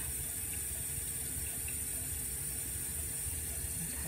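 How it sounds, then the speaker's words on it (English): Cold water runs from a kitchen tap into a kettle, a steady constant rush of filling water, close and even throughout with no talk. "I'm going to put my kettle under the tap and fill it up"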